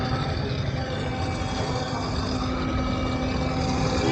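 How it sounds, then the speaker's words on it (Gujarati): A Yamaha motorcycle engine idles steadily in neutral, a continuous broadband drone with a faint steady whine, close and even for the whole stretch with no revving. "ન્યુટ્રલ કરીને તમને ખાલી એન્જિનનો અવાજ સમજાવું"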